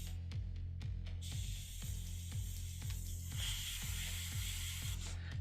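Airbrush spraying paint on a miniature, a hissing spray that starts and stops over a low compressor hum and repeated ticking, faint and close, with no talking.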